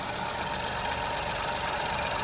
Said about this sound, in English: The engine's running, as you can hear.